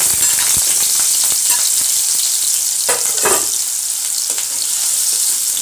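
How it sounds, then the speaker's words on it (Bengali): Small cut pieces of potato frying in about four spoons of hot mustard oil for a Bengali vegetarian dish, a steady close sizzle with occasional clinks and stirring sounds. "এখন আলুগুলো ভেজে নেব।"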